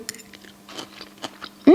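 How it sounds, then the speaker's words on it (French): Someone chews roasted, marinated broccoli, with soft crunchy bites and mouth sounds close to the mic before a louder burst at the end. "Attention, je goûte le brocoli."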